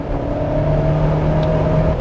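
A Ford Explorer with a 10-speed automatic accelerates hard on a highway for an overtake; a steady, fairly loud engine and road drone holds throughout with no clear shift jolt standing out.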